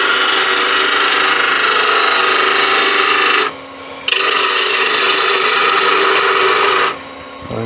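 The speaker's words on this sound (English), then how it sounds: "Right there, get in with a detail gouge." A stainless steel honey dipper handle being shaped on a wood lathe with a detail gouge, giving a loud, steady rasping scrape that breaks off twice for brief pauses before resuming.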